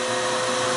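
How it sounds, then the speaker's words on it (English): A toilet vent air pump running, heard as a constant, close, broadband whooshing blower hum with no breaks. "when we turn the pump on,"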